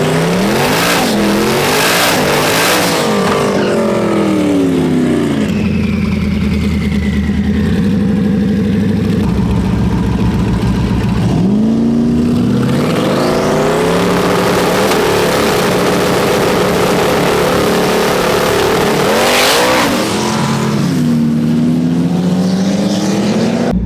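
Ford Mustang drag car launching at a drag strip on a hot track, engine screaming loud and close as it spins off the line and revs climb through gear changes, with several rising sweeps and a sustained roar throughout.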